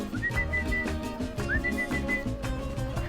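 Two melodic whistled phrases rise and hold, a person whistling to a cat in a street in Izmir, Turkey, over a steady background of music and noise.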